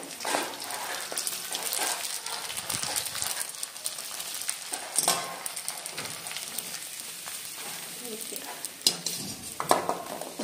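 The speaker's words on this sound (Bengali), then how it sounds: "গোল গোল বড় বড় ফুচকা ভাজা চলছে।" Large round phuchka puris fry in hot oil with a steady, crackling sizzle, while utensils clink and scrape close by throughout and no one speaks.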